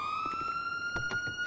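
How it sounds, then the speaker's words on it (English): A police car siren in a video game wails with a steady high tone, loud and close, while short engine and impact bursts sound beneath it. "Yo, I took the police car."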